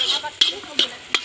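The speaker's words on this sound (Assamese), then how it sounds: "মাছৰ জোলৰ কাৰণে বিলাহী ভাজি আছোঁ" Tomatoes fry in a pan for fish curry, a soft sizzle broken by three sharp scraping stirs of a spoon against the pan, close and brief.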